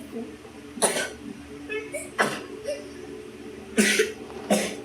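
Several short coughs, four or five bursts spaced unevenly, fairly close, over a quiet indoor background with faint voices.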